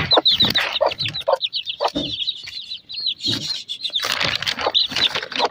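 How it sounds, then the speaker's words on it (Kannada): Native country chickens cluck and squawk up close as they are let outside, with bursts of excited calls, short gaps of quiet and a busy stretch of clucking toward the end. "ಎಲ್ಲ ಕೋಳಿಗಳನ್ನ ಹೊರಗಡೆ ಬಿಡೋಣ."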